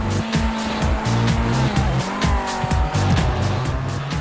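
Rally cars roar and rev in a racing video game, with squealing tires and engine pitch rising and falling as they skid around a two-lane head-to-head circuit, loud and continuous, with no voices.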